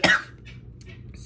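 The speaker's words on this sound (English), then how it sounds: "Sorry about my bad cough." A single sharp, close cough bursts out at the start, then fades into near silence with faint room noise.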